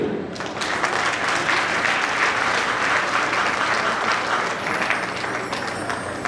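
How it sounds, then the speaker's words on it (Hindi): Loud, sustained applause from the gathered audience at a Jain Mangal Kalash Sthapana ceremony, a dense wall of clapping that swells quickly and continues evenly. "चाहता हूं कि आप सभी उसके सम्मान में जोरदार तालियां बजाएं"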